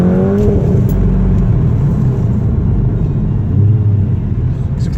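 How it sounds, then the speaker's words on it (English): Seat Leon Cupra fitted with stage 2 brake upgrades, heard from inside as a loud steady engine and road rumble with a swelling rise partway through, no voices over it. "Just accelerate generally up to about 60-70 mile an hour, and then progressive braking down to about 10 mile an hour."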